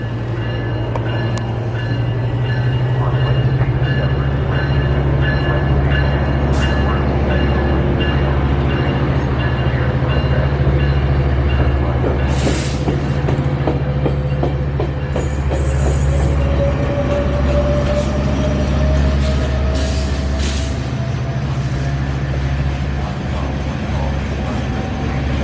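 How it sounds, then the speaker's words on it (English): A train rumbles loudly nearby in Los Angeles with a steady low roar and rhythmic wheel clatter, a faint squeal rising partway through as it pulls away. "The train is leaving."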